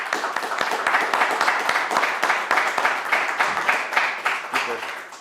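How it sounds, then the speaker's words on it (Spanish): An audience at a seminar claps steadily and briskly, a dense patter of many hands close by that carries on for several seconds before slowly tapering off. "les pido un aplauso"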